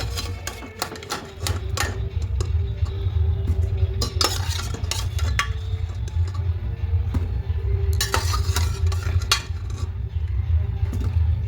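A metal spoon scrapes and knocks against the inside of a pressure cooker while lifting out boiled potatoes, giving repeated close clinks and scraping clatters in bursts over a steady low hum.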